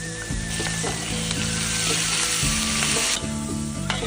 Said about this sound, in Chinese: 爆炒羊杂可以出锅了